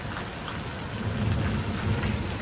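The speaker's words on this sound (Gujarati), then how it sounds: "તો એ તો કેવો અવાજ આવે છે વીજળીનો" Steady rain pours down with a deep, rolling rumble of thunder swelling underneath, continuous and fairly close.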